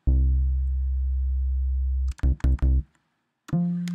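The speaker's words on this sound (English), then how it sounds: "And you're going to have this cool sound of bass." Vintage synth bass in GarageBand with the sine turned all the way up and cutoff and resonance down, a deep sustained bass note that cuts off, followed by several short stabbed bass notes and one more after a gap.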